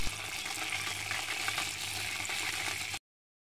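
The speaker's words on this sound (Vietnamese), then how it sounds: "mình sẽ lật mặt kia lên để chiên tiếp cái mặt còn lại" Spring rolls (chả giò) fry in hot oil, giving a steady, close sizzle and crackle for about three seconds before the sound stops abruptly.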